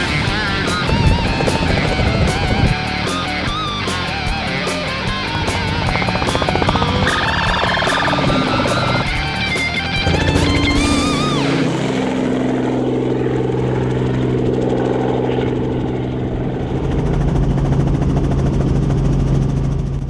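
Loud, steady rotor and engine drone of a helicopter rounding up impala in Zimbabwe, with a tonal whine and music early on, settling into a low throbbing hum.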